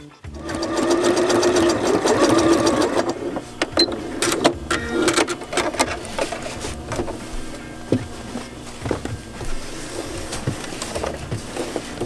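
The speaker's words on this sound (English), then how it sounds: "we're going to take that to our machine, and we're going to just zigzag here and here" A sewing machine zigzag-stitches the raw fabric edges of a scrub bag, running in a loud, steady whir for about three seconds, then stopping and starting in short bursts with clicks and handling noises.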